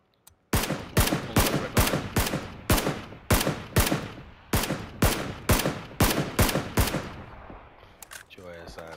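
Rapid gunfire rings out in the battle-royale shooter PUBG, with about a dozen loud, sharp shots spaced roughly half a second apart, each trailing a short decay, ending as a voice speaks briefly.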